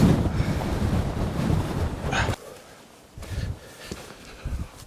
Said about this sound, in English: cold, wet, windy.